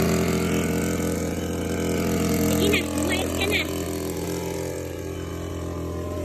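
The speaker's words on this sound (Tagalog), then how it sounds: "Bubuksan ko muna yung makina." A small motorized sprayer engine drones steadily and close by from start to finish, with a person speaking briefly partway through over the engine noise.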